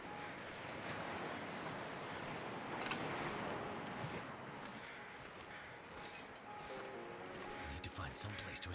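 Waves and wind in the wintry survival video game, a steady roar of surf and gusting wind that fills the whole stretch, with faint mechanical hum and clicks creeping in toward the end.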